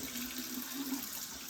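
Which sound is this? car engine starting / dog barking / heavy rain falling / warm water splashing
warm water splashing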